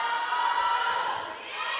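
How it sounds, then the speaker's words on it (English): Spectators cheering at a high school volleyball match between Harding Academy and Baptist Prep, a brief, steady roar of voices and shouts from the sideline. "We got a lot of cheering going on the side there."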